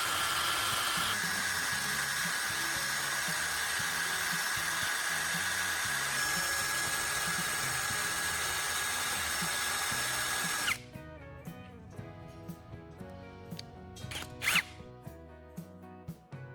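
A power drill spins a carbon rod against sandpaper to sharpen its tip, a loud steady high whine for about ten seconds that stops abruptly, followed by lighter scraping and handling noises.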